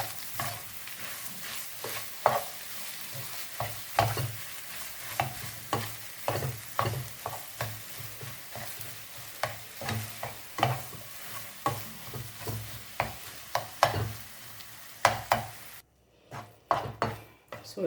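A spoon scrapes and stirs corned beef pie filling as it sizzles in a frying pan, with repeated rhythmic strokes over a steady frying hiss, close and clear.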